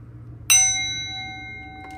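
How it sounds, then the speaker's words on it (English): A single bright strike on a hand-rung bell gives a sharp ding that rings on with a long, steady metallic tone and slowly fades. A faint second tap comes near the end. "Let me ring my motherfucking bell for y'all."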